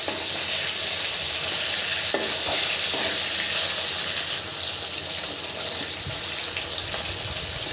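Fish pieces frying in hot oil make a loud, dense, hissing sizzle that runs nonstop, with a few soft knocks from a utensil.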